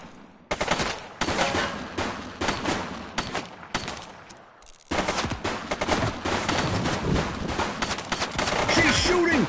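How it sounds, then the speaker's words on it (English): Dense bursts of rapid gunfire in The Precinct, a police game on PS5, ring out loud and close in sustained volleys, breaking off briefly near the middle before an even heavier barrage resumes. "She's shooting!"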